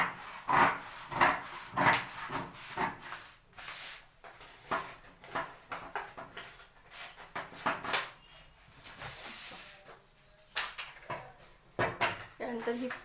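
Scissors snip and rasp through blouse fabric while cutting a katori blouse, a series of uneven rustling cuts close to the microphone, with someone speaking at times in between.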